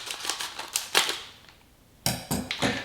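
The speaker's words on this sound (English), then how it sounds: "cut this top off here with the scissors." Scissors cut the top off the cardboard box of an iPhone 11 Pro Max clear shockproof case, making a series of crisp snipping clicks in two bursts separated by a short pause, close to the microphone.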